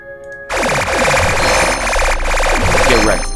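Rapid automatic gunfire from the sci-fi strategy video game The Spatials erupts after a brief quiet start and holds as a loud, dense rattle of shots with game tones layered over it.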